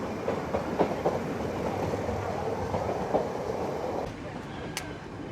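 Nilgiri Mountain Railway toy train running on the mountain line toward Ooty, heard from inside as a steady low rumble with faint clicking wheel rhythm, fairly quiet, with a brief squeal near the end.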